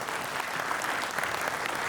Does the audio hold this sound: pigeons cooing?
no